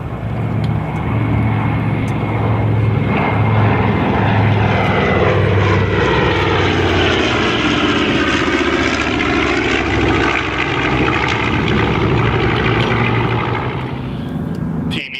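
A Grumman Avenger's 1,350-horsepower Wright Cyclone radial engine winds up at the Geneseo air show, a loud sustained propeller roar whose pitch dips and climbs as the plane passes close, then fades at the end.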